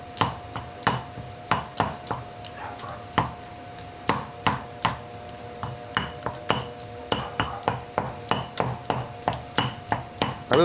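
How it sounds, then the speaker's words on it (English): Avocado being roughly crushed in a stone molcajete for guacamole: a long run of sharp, rhythmic pounding and scraping knocks, close and fairly loud, over a faint steady hum, with no talking. "we'll kind of roughly crush up that avocado"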